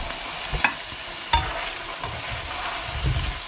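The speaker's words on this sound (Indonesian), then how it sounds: "Dan saya lagi goreng kentangnya" Potato pieces fry in hot oil in a pan for a first, half-cooked frying, giving a steady close sizzle with a few louder pops and stirring scrapes, without talk.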